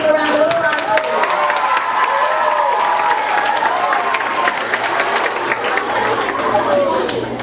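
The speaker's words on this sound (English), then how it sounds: "Can we give him a round of applause?" Children's audience at an elementary school clapping and cheering for a guest, loud mixed applause with excited young voices and chatter throughout.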